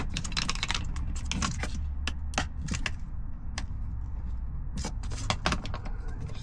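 A caravan toilet part snaps back into its housing with a string of sharp plastic clicks and small rattles, close by and fairly quiet, with brief pauses between them.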